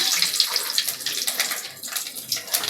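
Mustard and fenugreek seeds sizzle in hot oil in a kadai, giving a continuous close crackling hiss with fine popping texture, loud and unbroken for a few seconds.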